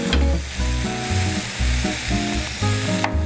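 Webfoot octopus and pork stir-frying with salt and pepper in a hot pan, loud crackling sizzle broken up by rhythmic bursts of stirring and tossing, with a sharp clatter near the end.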